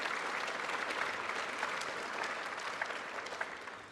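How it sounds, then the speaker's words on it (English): Thick, sustained audience applause for plenary speakers at an actuaries summit, a dense continuous wash of many hands clapping at steady volume that eases slightly toward the end. "So please actually give them a big clap for coming and speaking with us."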